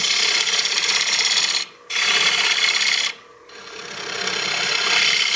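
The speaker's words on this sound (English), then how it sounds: "I'm actually going to go back to my gouge just to make that a little bit quicker." A wood turning gouge cutting on a lathe while shaping a cake stand: a loud, continuous rasping shear broken by two short pauses, then resuming and swelling slightly.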